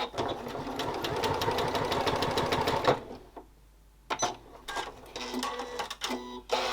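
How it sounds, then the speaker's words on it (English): A domestic sewing machine fitted with a blind hemming foot stitches a cork fabric wallet piece, a fast steady mechanical rattle running for about three seconds, then stopping and restarting in short bursts with quiet gaps between. "I've also put a blind hemming foot on the machine so I can keep a nice even distance from the edge all the time"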